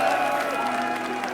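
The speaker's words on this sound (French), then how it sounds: "est-ce qu'on peut les applaudir une nouvelle fois s'il vous plaît?" An audience at a rap battle event claps and cheers in a dense, steady wash of applause that fills the whole brief moment.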